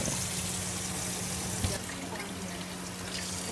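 Tap water runs steadily over partly frozen tuna in a kitchen sink, a continuous close splashing wash with a brief knock partway through.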